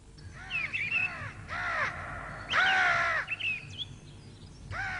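Crows caw in repeated harsh bursts, several calls in quick succession with short gaps, fairly close and clear over a low rural background hum.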